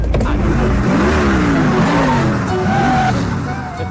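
A car pulls away with its tires skidding and squealing, a loud continuous screech over engine roar, in a Hindi action film scene.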